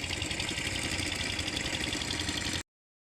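A fishing boat engine chugs steadily nearby on a hilsa-netting trip, a constant low rumbling drone with a rapid pulsing rhythm, then cuts off abruptly.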